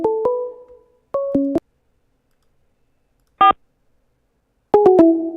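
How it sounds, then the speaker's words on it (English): Prison phone sounds for an incoming collect call with loud, close electronic two-tone chirps in short bursts, a brief higher beep, then more chirps after a silence. "The prison phone is ringing."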